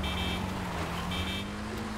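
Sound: car horn honking in video game GTA 5

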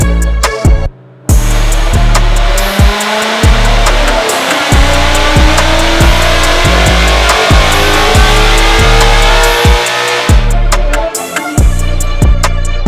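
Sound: supercharged Ford Mustang GT running on a dyno

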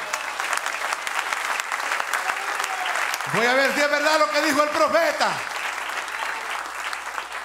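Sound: congregation applause

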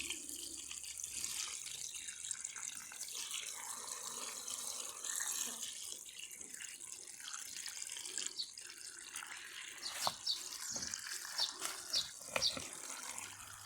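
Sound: filling a bucket with water

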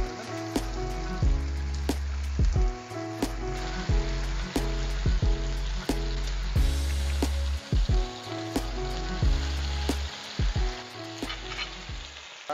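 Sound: chicken feta spinach sausages and onions frying in a pan

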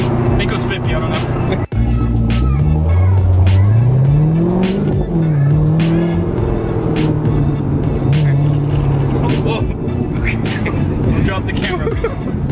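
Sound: Chevrolet Corvette accelerating

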